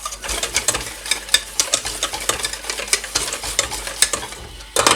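Crepe batter made with milk is whisked briskly in a bowl, giving a quick run of close scraping, tapping strokes with no talking.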